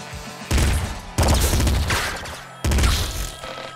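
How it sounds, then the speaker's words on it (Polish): Assault rifle fire in the video game Nuclear Throne comes as loud bursts of rapid, booming shots in three separate volleys, with no speech over them. "Assault Rifle."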